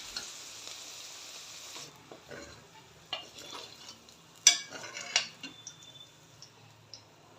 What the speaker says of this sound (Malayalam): ഇത് എല്ലാം കൂടി വഴറ്റുക.